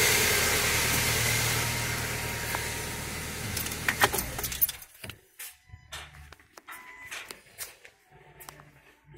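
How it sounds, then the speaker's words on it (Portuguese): A car engine idles steadily and then cuts off about halfway through, leaving near quiet broken by scattered clicks and small mechanical noises close by. "Vou desligar aqui o motor aqui pra vocês"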